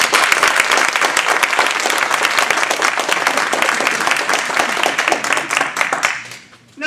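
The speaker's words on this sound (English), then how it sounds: "Give yourself a big round of applause." A speech contest audience bursts into loud, dense applause that carries on for about six seconds, then fades quickly to near silence.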